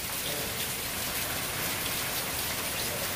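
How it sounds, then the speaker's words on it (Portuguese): Heavy rain from Hurricane Irma pours steadily, a dense, even hiss of drops striking surfaces with no pauses and no voices. "Está chovendo muito desde cedo"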